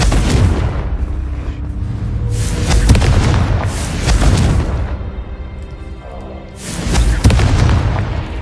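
Confringo blasting spells explode in Hogwarts Legacy, heavy booming blasts with rumbling tails, several bursts in succession, loud and close, with no talk over them.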